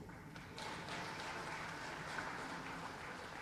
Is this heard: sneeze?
no